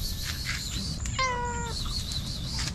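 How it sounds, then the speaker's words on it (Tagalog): Several cats are being fed hamburger outdoors and meow. One drawn-out meow stands out clearly in the middle, with softer cries before and after over steady low background noise. "Oh, dito mga pusa."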